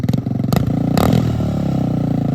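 A motorcycle engine revs hard and loud up close, rising in bursts with a clattering rumble and a sustained high-pitched roar near the end, no voices over it.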